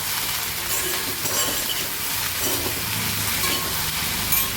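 Vegetables sautéing with turmeric powder in a hot pan give a steady, close, continuous sizzle and crackle with no voices.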